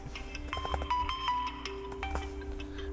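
Mobile phone alarm ringing: a faint electronic melody of steady repeating tones, quiet and alone with no talk over it.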